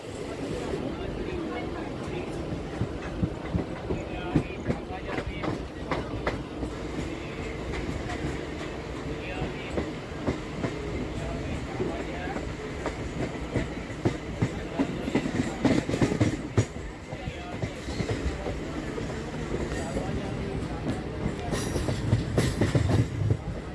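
A Bardhaman–Katwa local train rolls along the rails with a steady rumble and repeated wheel clatter, recorded from on board. Passengers can be heard talking under the running noise.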